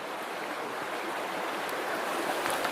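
Steady broadband rush of creek water flowing, continuous and fairly close with no clear breaks, at a late-summer creek where gold is being panned.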